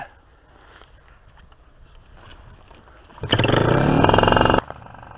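A paramotor engine catches and runs loudly for about a second and a half near the end, after quiet handling noises, then cuts off abruptly.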